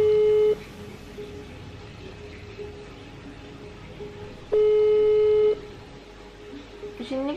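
A video call rings out in two long electronic ringback tones with a steady pitch, each lasting about a second, separated by a quiet pause with faint background hum and some soft noise near the end.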